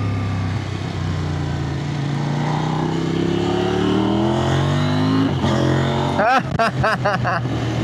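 A Kove 800X GT motorcycle pulls hard with a loud, rising engine drone, then near the end fires off several rapid quick-shifter gear changes in a choppy stutter, with wind rush throughout.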